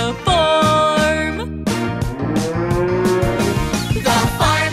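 Sung children's farm-animal song in which a cartoon cow on a bus moos repeatedly over bright, bouncy music, the moo imitated by a singing voice.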